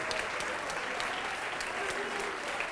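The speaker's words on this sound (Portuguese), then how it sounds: "Vamos aplaudir mais ao nome de Jesus." Church congregation applauding together in steady, dense clapping that fills the room, loud and continuous for the whole stretch with no talking over it.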